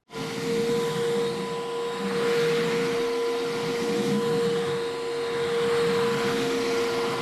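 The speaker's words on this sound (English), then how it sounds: "This is how loud the wet dry vac is." A JONR ED12 Pro wet dry vacuum runs steadily and loudly for the whole stretch, giving a constant motor whine with a strong fixed tone and broad airy rushing noise and no talk.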